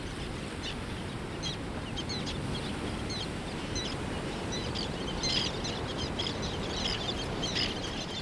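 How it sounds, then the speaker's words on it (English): Black-naped terns call in short, high, scattered chirps over a constant hiss of shallow tidal water, faint and distant with no voices. "This black-naped tern lives a life scored to the music of the tides."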